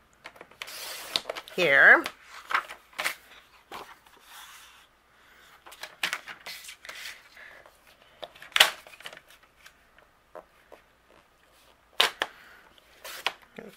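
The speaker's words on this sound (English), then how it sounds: "I'll place this in my trimmer and I'm just gonna trim it" A paper trimmer slices through cardstock in a few short, sharp cuts and scrapes, with handling clicks between them and a voice speaking briefly nearby.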